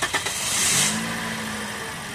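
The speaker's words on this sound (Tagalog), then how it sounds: "tapos start ko na itong makina." A car engine cranks with a couple of quick starter bursts, catches, and settles into a steady, moderately loud idle nearby.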